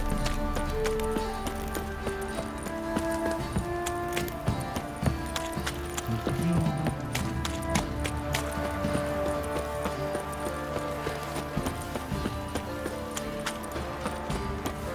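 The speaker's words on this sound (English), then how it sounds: "Time to water the horses." Horse hooves clip-clopping at a steady walk in The Witcher 3: Wild Hunt, a rhythmic series of hoof beats mixed into continuous game music and ambience, moderately loud throughout with no speech.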